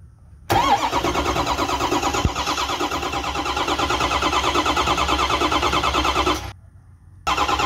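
A Ford 6.0L Powerstroke diesel cranks on its starter, driven by a jumper wire to the battery positive, in a loud, steady rhythmic churn lasting about six seconds before cutting off, followed by a brief second crank.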